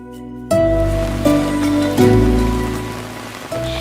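Heavy downpour pours onto flooded streets in Saharsa, a steady, dense rain wash that is loud and close throughout, mixed with a sustained tonal layer.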